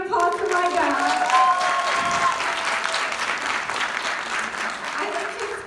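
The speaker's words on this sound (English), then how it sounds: "so big round of applause for my dad." An indoor audience claps steadily for several seconds, a dense, even wash of applause at moderate level with no voices standing out.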